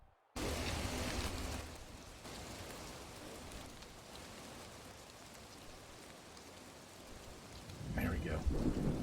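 Video game rain and thunderstorm ambience, a dense continuous wash of rain with rolling thunder rumbles, loud and steady throughout, swelling slightly near the end.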